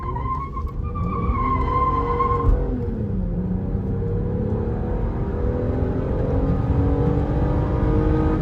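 A 2007 Hyundai Azera GLS accelerates hard from 0 to 60, with the engine note rising steadily through the gears, a shift around the middle and then a long climbing drone with road noise, heard from inside the cabin.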